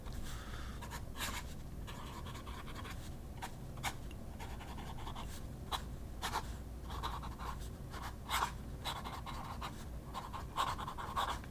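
A fountain pen nib scratches across paper in short strokes and pauses, a faint, close, dry scribing texture over a soft background hiss.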